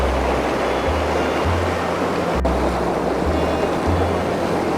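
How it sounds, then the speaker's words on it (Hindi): The Ganges at Gangotri rushes over rocks among mountains, giving a constant, loud, broadband roar of fast water with no voices over it. "जो गंगा जी का जो बहाव है वो मैं आपको एक बार दिखाता हूँ"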